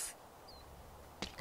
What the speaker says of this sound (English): It sounded like she just went pfft instead of a real sneeze.